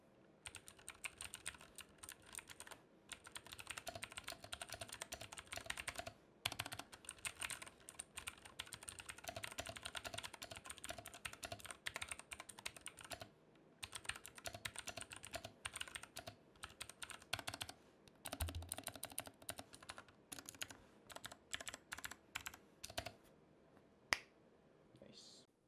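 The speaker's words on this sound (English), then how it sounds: "just a typing test on this keyboard for you guys, so you can hear the blue switches" Rapid, clicky typing on a BOYI 60% mechanical keyboard with blue switches, sharp tactile clacks, steady bursts and brief pauses, close and fairly quiet.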